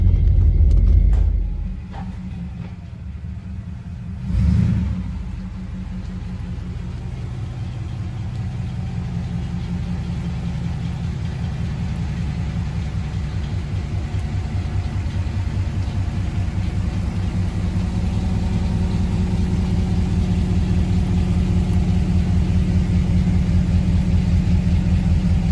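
A 1992 Camaro engine rumbles low and steady while driving on a wet road, with a brief revving surge early on before settling into a long sustained drone through the gears.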